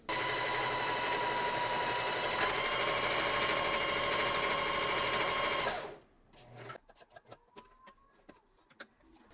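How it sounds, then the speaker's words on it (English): A sewing machine stitches a buttonhole on a homemade boxer shorts and shirt set, a fast, steady mechanical whir running for about six seconds before stopping, followed by a few light scattered clicks and handling noises. "Now I'm going to go and just sew my last buttonhole with this machine."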